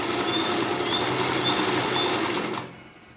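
A sewing machine stitching cloth, a fast steady mechanical whir close up that runs continuously then stops abruptly near the end.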